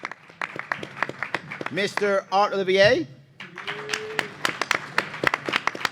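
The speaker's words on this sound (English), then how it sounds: "You should clap now." Audience applause greets candidate introductions at a Libertarian presidential debate at the 2024 Pennsylvania convention. Dense, crisp clapping opens and closes the stretch, and a man announces a name through the middle.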